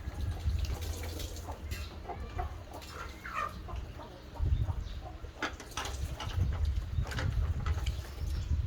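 Chickens cluck and call steadily nearby in a rural outdoor setting, mixed with background noise and occasional voices.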